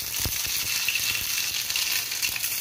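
Mustard seeds frying in hot oil for a roadside-style tomato chutney, giving a steady close sizzle with scattered small pops and crackles throughout.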